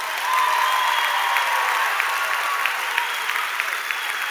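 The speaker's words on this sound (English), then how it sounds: "Cheer the ones who didn't think they'd ever make it" A university agricultural sciences graduation audience applauds in a steady, dense roar of clapping with scattered sharper claps, sustained throughout without clear voices.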